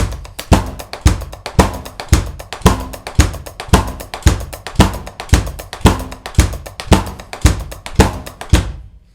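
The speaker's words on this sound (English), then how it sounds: "you can use the 16th note hi-hat groove for that" A drum kit playing a steady 16th-note hi-hat groove, with even, rapid hi-hat strokes over a regular pulse of punchy accented hits, loud and close, stopping cleanly at the end.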